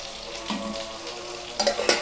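Sliced onion and garlic sizzle in a hot pan for a chammanthi, a soft steady frying hiss broken by a couple of louder stirring scrapes near the end.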